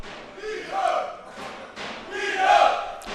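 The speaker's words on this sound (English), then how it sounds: "you can hear fans of both teams cheering them" Football fans of both teams cheer and chant in a stadium, a swelling crowd roar rising and falling in waves, loud and fairly close.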